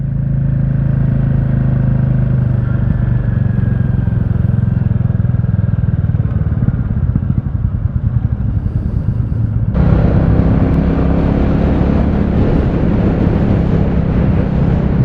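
A Royal Enfield Classic 350 motorcycle thumps along on a ride with steady engine drone and wind rumble, the sound growing louder and brighter partway through as it picks up speed.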